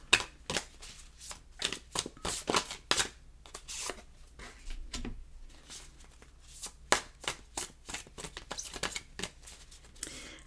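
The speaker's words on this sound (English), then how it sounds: "So we shuffle until." Tarot cards being shuffled by hand, a close series of brisk riffling bursts and soft slaps broken by short pauses, with no speech.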